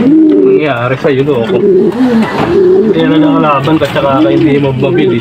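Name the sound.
racing pigeons cooing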